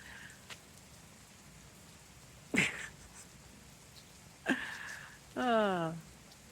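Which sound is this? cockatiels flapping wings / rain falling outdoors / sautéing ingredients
rain falling outdoors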